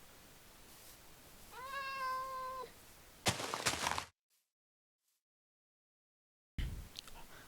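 In the Minecraft video game, a cat in an acacia village gives one clear meow, followed by a short burst of game noise, then silence before more faint game sounds return.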